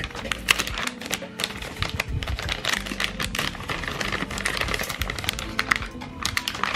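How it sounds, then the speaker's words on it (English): An AVerMedia Live Gamer HD 2 capture card being pulled from its plastic packaging, giving a dense, continuous run of close crinkling and tapping clicks with no pauses. "I didn't even take this out of the plastic. So let me do that real quick."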